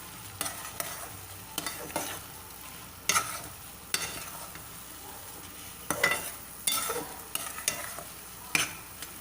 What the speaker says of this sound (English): You have to keep on stirring, okay?